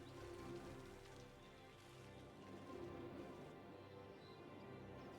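Steady rain falling in the city-building game Cities: Skylines, a soft, even patter of drops on surfaces that holds constant throughout.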